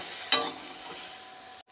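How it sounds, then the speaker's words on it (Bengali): Carrots and peas being stirred in a frying pan give one short scrape and then a steady, soft sizzle that cuts off abruptly. "গাজর ভাজা হয়ে এসেছে এবার মটরশুঁটিগুলো এর মধ্যে দিয়ে একটু নেড়ে চেড়ে নেব"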